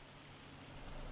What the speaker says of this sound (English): so while it rains